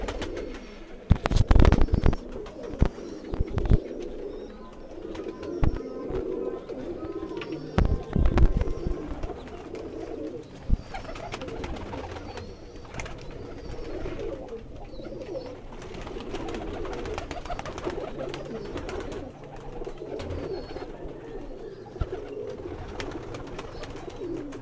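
Pigeons on a rooftop loft keep up low, rolling coos, close and continuous, broken by a few loud flaps and knocks early on, with a faint busy ambience underneath.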